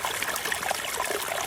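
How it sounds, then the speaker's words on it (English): A small waterfall in a rice field trickles and splashes steadily, close by and continuous, with no voices over it. "This is the small waterfall"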